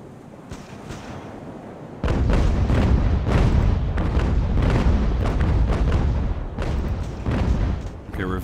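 Sailing-ship cannons fire in a naval battle in Ultimate Admiral: Age of Sail, a rapid string of loud booming broadsides. The booms overlap and continue for several seconds as a dense, rolling barrage.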